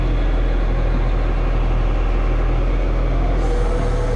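A new Scania 113 truck engine runs for the first time, a loud, steady, close diesel rumble with no pauses or talking.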